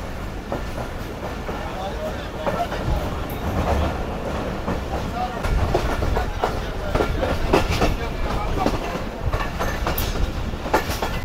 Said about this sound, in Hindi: ये शादराबाग रेलवे स्टेशन पर अप्रोच बना रही है इस वक्त ट्रेन हमारी